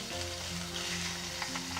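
Chicken breast sizzles in a hot pot with plenty of oil, a steady loud frying hiss with occasional faint pops and stirring sounds.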